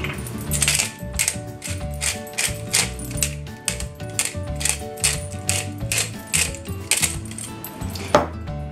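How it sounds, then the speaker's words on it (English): A pepper mill grinding black pepper over grilled vegetables: a rapid train of dry crunching, ratcheting clicks in repeated bursts, close and fairly loud, with no speech. "the last step is just some freshly ground up black pepper."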